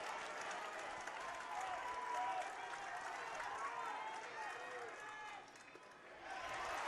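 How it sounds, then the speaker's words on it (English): Crowd at a high school baseball championship game at Dozer Park cheering and applauding on a pitch in the sixth inning, a fairly distant, sustained roar of clapping and voices that dips briefly near the end and then swells again. "Either side cheering on every pitch right here in this situation in the sixth."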